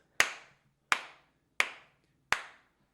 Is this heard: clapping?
yes